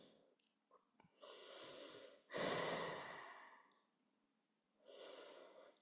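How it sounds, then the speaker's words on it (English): Slow, deep breathing during a kundalini yoga session: a quiet, close inhale, then a long airy exhale, and a further soft breath after a pause, with no talking. "Breathe deep, breathe slow."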